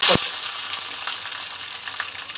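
Coconut pieces fry in coconut oil with mustard seeds. A sharp clatter as they drop into the pan turns into a loud, steady sizzle with light crackles.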